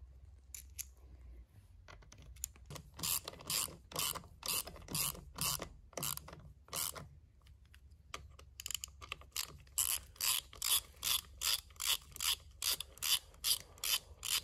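Ratchet wrench clicking in repeated bursts of rapid pawl ticks while bolts are tightened on a Polaris Ranger 570 transmission during output shaft replacement, close and clear with brief pauses between strokes.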